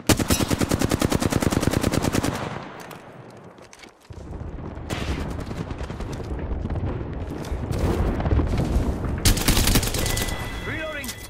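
Gunfire in the video game Apex Legends: a loud rapid automatic burst opens, then heavy dense firing and explosive bursts continue almost without pause, with speech mixed in.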